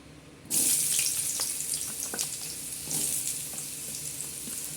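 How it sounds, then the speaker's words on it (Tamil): Chayote pieces are lightly sautéed in a pan for a buttermilk curry. After a quiet half-second, a sudden loud, bright hiss starts and stays steady, with a few soft stirring knocks, and no one speaks. "சவு சவ் போட்டு லைட்டாக வதக்கி"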